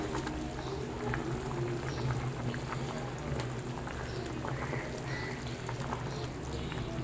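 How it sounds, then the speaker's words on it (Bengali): A pan of thin fish curry broth bubbles at a steady boil, a continuous soft simmering hiss with small pops, close and even throughout with no talk. "ঝোলটা ফুটে গেছে, এবার আমি একে একে মাছগুলোকে এই ঝোলের মধ্যে ছেড়ে দেব"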